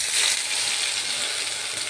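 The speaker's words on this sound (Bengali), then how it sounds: "এই গ্রেভিটাকে তেলের ওপরে কাঁচা গন্ধটা যতক্ষণ না যাচ্ছে ততক্ষণ অবধি কষিয়ে নেব" Masala paste gravy, made green with coriander leaves, frying in oil for a potato, paneer and pea curry, giving a steady, close, even sizzle with soft bubbling crackle throughout and no talk.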